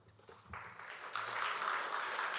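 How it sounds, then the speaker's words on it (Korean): Audience applause of encouragement at a testimony gathering, starting quietly and swelling into steady, fairly distant clapping from a crowd. "우리 힘내시라고 다시 한번 큰 격려의 박수 한번 부탁드리겠습니다"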